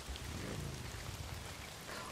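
Steady rain falls in the post-apocalyptic game Days Gone, a broad hiss of drops pattering on surfaces that runs unbroken and fairly close for the whole stretch, with no voices over it.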